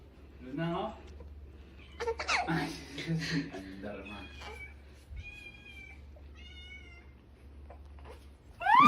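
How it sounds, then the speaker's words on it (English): A cat meows several times, with drawn-out tonal cries between bursts of nearby human voices and laughter, fairly quiet overall, ending in a louder sharp sound. "It's a good cat."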